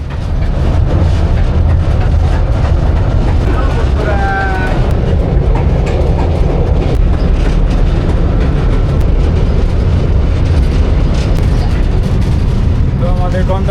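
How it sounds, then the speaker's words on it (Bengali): An amusement park metro train ride rumbles loudly and continuously, with a dense rattling, clattering roar throughout and some indistinct voices mixed into the din. "এই হচ্ছে মেট্রো"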